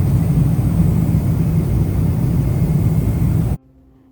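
Loud, steady low roar of cabin noise inside an Emirates airliner approaching landing in Dubai, continuous for several seconds before cutting off abruptly.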